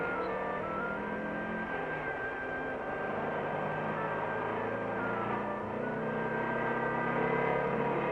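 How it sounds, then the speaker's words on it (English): Porsche car driven under load through its gears on an indoor test machine that duplicates road driving, giving a steady engine drone with harmonic tones and slight pitch shifts, continuous and moderately loud with no talk. "The car is driven under load through the gears and performance noted and checked."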